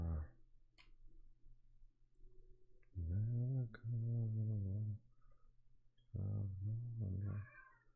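A cat meows several times up close, long drawn-out, tonal cries in two bursts separated by a short pause, with faint clicks in a quiet room.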